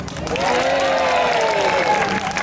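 Sustained applause and crowd noise at a folk festival performance fill the space throughout, with voices and cheers mixed into the steady clapping.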